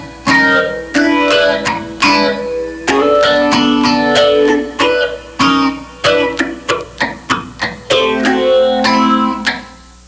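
Slow, choppy guitar chords are struck one after another with crisp muted attacks and short gaps, playing a syncopated funk pattern alone.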